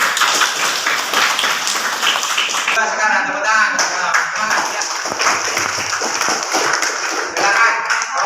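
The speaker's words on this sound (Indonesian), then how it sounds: "Aplaus buat kelompok satu." A classroom group claps for the first presenting group: dense, continuous applause with rapid overlapping hand claps, fairly close and loud, holding steady for several seconds with a few voices mixed in.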